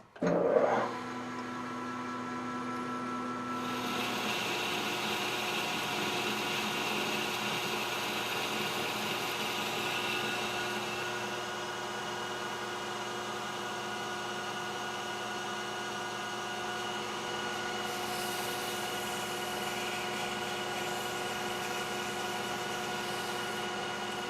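A metal lathe bores a swage die with a steady, fairly quiet mechanical hum and faint ringing tones that run continuously with little change, after a brief clunk at the start.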